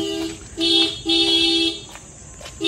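A car horn honks in repeated bursts on a brightly lit road, two longer blasts and a few shorter taps, close and fairly loud over faint background noise.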